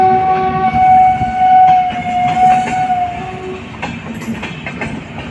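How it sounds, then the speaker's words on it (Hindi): A passing Indian passenger train hauled by a WAP-4 electric locomotive rumbles loudly and close, with a sustained horn tone at the start over steady wheel noise and clattering. "लग रहा है इस वाली ट्रेन में जो लेफ़्ट साइड वेब 4 के साथ आ रही है"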